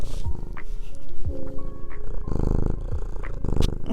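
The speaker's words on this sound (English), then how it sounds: "Want some cat ASMR?" A cat purrs loudly and close up in a steady, rumbling rhythm of repeated pulses, with a few faint background noises and no talking.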